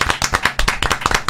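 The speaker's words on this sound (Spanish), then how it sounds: "Vamos a recibirla con aplausos." Rapid, sharp hand claps from a small group, close and loud, in an irregular quick patter lasting just over a second.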